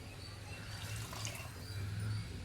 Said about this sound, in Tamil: இப்போ வந்து இந்த பருப்பு தண்ணியை நம்ம இது கூட சேர்த்துக்கோம்